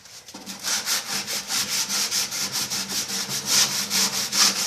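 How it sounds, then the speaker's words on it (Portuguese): Rust and loose paint are sanded off a microwave oven by hand with new sandpaper, producing a steady series of rhythmic abrasive back-and-forth strokes, close and clear with no talk. "É só pegar uma lixa boa, comprar uma lixa nova e fazer esse trabalho."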